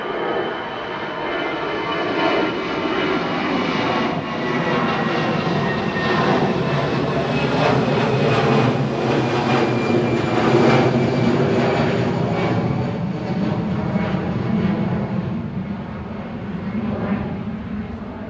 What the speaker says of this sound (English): Eurowings departing now with flight 9345 to Dusseldorf, DAEWQ